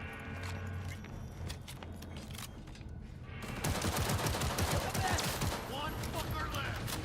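Cyberpunk 2077 combat: sustained rapid gunfire crackles throughout, swelling into a louder, denser burst of shots and an explosive blast from a grenade midway, with voices shouting faintly in the mix.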